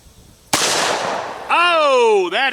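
A single loud shotgun blast fires a PET reload cartridge at eggs outdoors, the sharp crack decaying over about a second before a voice cuts in.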